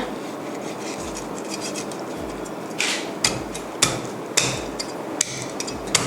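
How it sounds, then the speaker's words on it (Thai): A knife chops down through the middle of a cleaned, scaled sea bass on a board, a run of about five sharp, evenly spaced thuds growing firmer after a quieter start, with no voices. "ช้มีดนะคะสับลงไปกลางตัวปลาแบบนี้ค่ะ"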